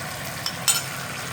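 Spoon stirring yogurt into chicken pieces and gravy for Chicken 65, a soft wet scraping with a brief clink and a short sizzle mid-way, quiet and close with no talking.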